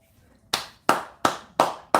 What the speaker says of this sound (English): a big round of applause for the mothers from all over the world.